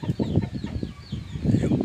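A turkey and several chickens clucking and chattering close by in a barnyard, a steady busy flock with some higher calls mixed in.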